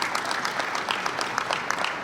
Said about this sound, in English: Can you also give them a nice round of applause?